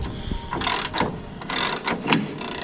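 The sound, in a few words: wrench cranking down Polaris RZR radius rod bolt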